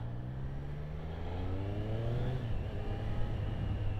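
A Triumph Street Triple 765 RS motorcycle accelerates hard, its engine note climbing steadily in pitch through the gears as a continuous, fairly close roar with no voices.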